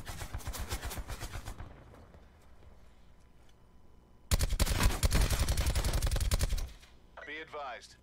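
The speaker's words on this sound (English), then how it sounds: "I'm shooting right in the fucking face!" Bursts of rapid automatic gunfire from a Call of Duty Black Ops 4 Blackout battle royale match, a rattling volley up front, a quiet gap, then a second louder sustained burst before a brief in-game voice.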